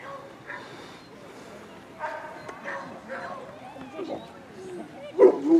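A Cane Corso barks during protection obedience work at an outdoor forest games event, giving a few scattered barks and yips with a louder burst near the end, mixed with people talking and background noise.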